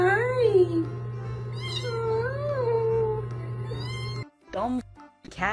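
A cat meows in long, drawn-out, wavering cries, loud and close, repeated several times in a row before a couple of short, sharper meows at the end.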